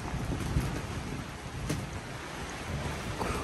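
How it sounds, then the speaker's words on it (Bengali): Heavy rain pouring down outside a glamping cottage in Cornwall, a steady, dense hiss and patter with a couple of sharper splashes, heard from indoors. "খুবই মুষলধারে বৃষ্টি হচ্ছে,"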